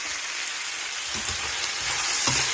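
Mixed vegetables sauté in a pan for rava kichadi, giving a steady, close sizzling hiss with a few soft stirring bumps and no voices.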